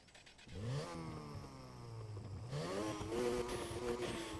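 A Subaru BRZ engine in the video game Need for Speed Heat revs up, drops, then climbs again with a buzzy, high-pitched whine, loud and continuous.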